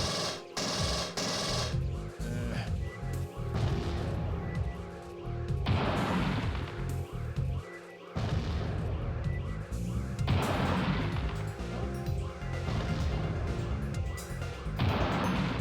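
Grenade blasts in the video game Alien Trilogy, a run of loud booming explosions and crashes over game sounds, with no talking.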